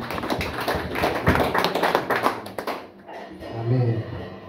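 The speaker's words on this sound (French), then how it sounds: "Applaudis l'Esprit de Dieu." Church congregation claps in a quick rhythmic run, then falls quiet while a voice continues speaking.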